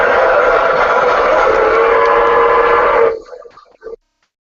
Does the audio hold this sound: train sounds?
yes